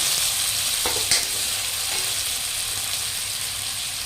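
Potatoes and tomatoes fry in a pan with a steady, close sizzle, while a utensil gives a couple of brief scraping stirs early on.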